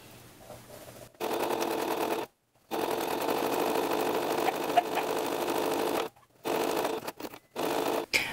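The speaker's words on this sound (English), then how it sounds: "sew a quarter inch along, and then I'll show you what we're going to do when we get to the corner. And I'm going to backstitch here." A sewing machine stitching and backstitching a scrappy pot holder, running in long steady buzzing stretches broken by short pauses and brief stop-start bursts near the end.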